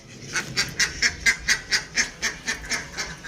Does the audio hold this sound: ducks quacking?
yes